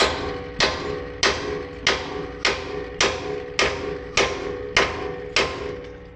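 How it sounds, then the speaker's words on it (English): A hammer whacks a Toyota Tacoma lower ball joint to drive it out, ten sharp metallic blows landing in a steady, evenly spaced rhythm, loud and close with a short ringing decay after each strike. "I'm gonna try whacking it. I probably should use the bigger hammer"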